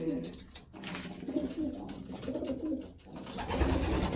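Pigeons at a pigeon breeding loft coo in low, repeated throaty phrases close by, with a muffled scrape and a burst of rustling toward the end.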